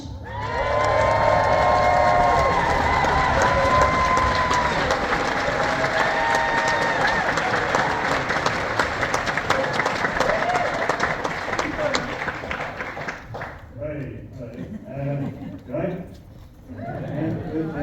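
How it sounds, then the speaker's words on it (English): An indoor audience welcomes a support act with loud clapping and cheering, a dense sustained roar of applause and whoops that thins out toward the end, when a voice starts talking over the fading crowd. "So clap, cheer, stamp your feet, make him feel very welcome"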